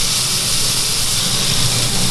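A marinated tomahawk rib steak sizzles loudly in a hot pan, a dense, steady hiss filling the space close up without a break.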